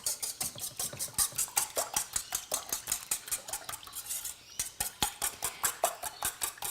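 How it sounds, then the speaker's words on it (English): Eggs with salt and pepper are whisked briskly in a bowl, a quick, regular run of metallic clicks and taps, close and fairly quiet, pausing briefly midway before resuming. "Whisk."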